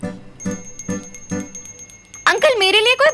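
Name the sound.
hand bell rung during puja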